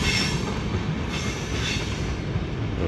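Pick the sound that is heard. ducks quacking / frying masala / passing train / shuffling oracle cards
passing train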